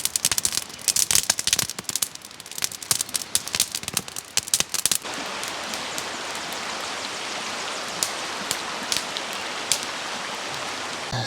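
Campfire lit from a feather stick in a mountain tarp camp, crackling with sharp irregular pops and snaps close by, busier at first and then settling into a steady hiss with occasional cracks.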